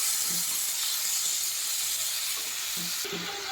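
Chopped tomatoes with turmeric in a pan on the stove send up a continuous, close, loud sizzling hiss that holds steady throughout, with faint clinks underneath.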